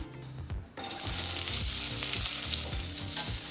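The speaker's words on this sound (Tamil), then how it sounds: "இப்போ கடாயில கொஞ்சமா எண்ணெய், அடுத்தது பேபி பொட்டேட்டோ சேர்த்துக்கலாம்" Baby potatoes dropped into hot oil in a kadai, a steady, loud sizzle and crackle with stirring scrapes, close up and with no talking.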